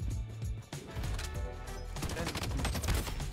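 Rapid MCX assault rifle fire in Bloodstrike crackles in dense, uneven bursts over busy game noise, with a short pause before the shooting resumes steadily.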